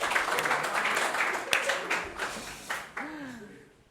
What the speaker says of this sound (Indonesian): berikan tepuk tangan untuk kelompok 2 ya